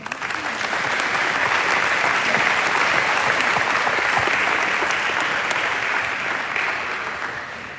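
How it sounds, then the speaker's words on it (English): Sustained applause from a large audience at a high school awards assembly, dense even clapping that swells in and holds, then begins to taper near the end. "Could you give everyone a round of applause, please?"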